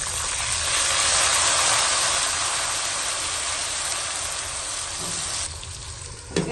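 Onions frying in a pot hiss and sizzle loudly and steadily after water is poured in, a dense close crackle that softens slightly toward the end, with a brief clink near the finish.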